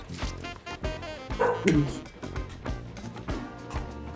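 An angry dog barks and yips in the de Blob video game, a few sharp barks mixed with game sounds and music while players talk over them.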